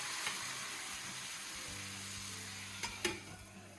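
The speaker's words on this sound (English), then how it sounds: "let it simmer." Filipino food sizzles and simmers softly and steadily in a pan, with a faint hum in the background and a couple of light clicks near the end.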